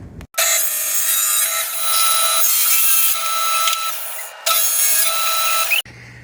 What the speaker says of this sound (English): So I'll cut a couple feet off of this